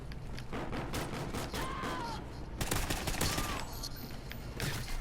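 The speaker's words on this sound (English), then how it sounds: "A little bit of suppressing fire." Sustained suppressing gunfire in the video game Ghosts: dense, rapid bursts of shots that carry on without a break and grow louder and heavier partway through, with faint voices and game effects mixed in.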